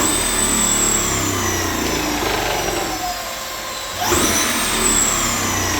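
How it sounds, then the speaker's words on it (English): Sur-Ron electric motorbike giving a partial rev: a steady high-pitched motor whine that dips briefly midway, then rises sharply again and holds, close and loud with no talk. "that's just like part rev, man."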